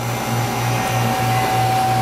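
Self-serve soft ice cream machine at a buffet starting to dispense, a loud steady mechanical whir with a pulsing low motor hum, close by and without voices.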